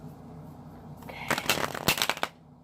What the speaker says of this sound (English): Okay, we're done shuffling.